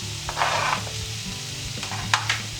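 Seitan and onion sizzle steadily in a pan, with scraping stirs and sharp bursts of spatter now and then, heard up close and with no one talking.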